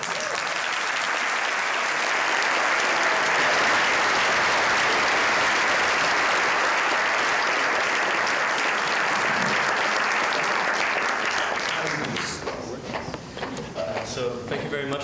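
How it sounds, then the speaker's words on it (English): Sustained audience applause fills the hall after a lecture on the economic meltdown at MIT, loud and steady, then thinning toward the end as a voice begins speaking over it. "Another round of applause."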